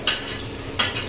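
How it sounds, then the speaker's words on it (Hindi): Onions frying in hot oil in a pan for chicken biryani give a brief, close sizzle, with two sharper crackling bursts over a steady hiss. "ये फ्राई है भाई"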